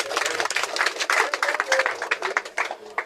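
Audience applause, with dense, uneven clapping and crowd noise filling three seconds, mixed with some voices.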